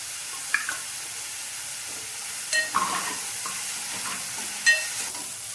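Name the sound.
onions and curry leaves frying in pan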